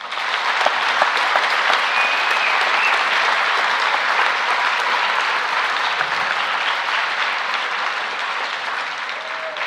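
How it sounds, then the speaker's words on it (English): An audience at a secondary school Veterans Day assembly gives veterans a sustained round of applause, an even, full wash of clapping from a large crowd that holds steady for about ten seconds. "Please give a final round of applause for all our veterans."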